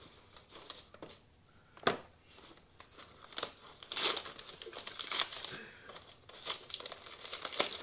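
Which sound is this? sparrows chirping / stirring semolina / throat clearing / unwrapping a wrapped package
unwrapping a wrapped package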